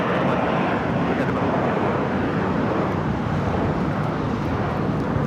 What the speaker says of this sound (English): This is JetBlue Airways flight 1124 taking off to JFK.